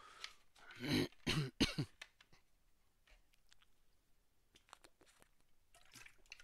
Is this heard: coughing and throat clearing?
yes